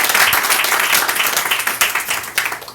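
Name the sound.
audience applause at a poetry reading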